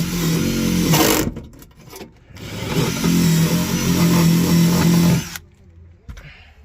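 A metal wire brush scrubs a removed bolt from a 2008-2014 Subaru Impreza WRX, giving loud, harsh continuous scraping in two long bursts with brief pauses, then quieter handling noise at the end.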